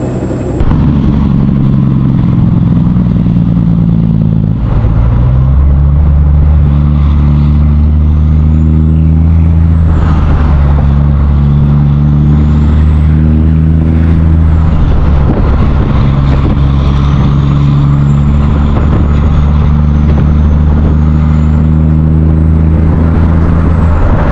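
Semi truck with trailer, 18-speed transmission and full air ride, running loud and close with a deep droning diesel engine whose pitch rises and shifts through gear changes, no talk.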